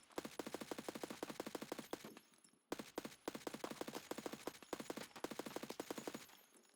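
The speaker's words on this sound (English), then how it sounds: "Here I'm using the MPX from that scav raid to get a quick spawn kill" MPX submachine gun firing in Escape From Tarkov: three long, rapid automatic bursts of sharp, evenly spaced shots, loud and close, with brief pauses between them.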